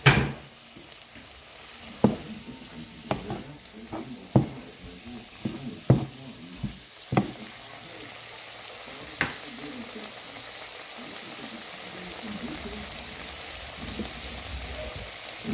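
Bamboo shoots with dried fish and a little chili sizzle softly in a pan, with a series of sharp utensil clinks and scrapes against the pan during the first nine seconds while stirring, then a quieter steady fry.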